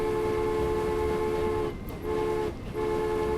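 A steam train in the railway simulation game Transport Fever sounds a long steady whistle, broken by two short gaps, over a constant rumbling background.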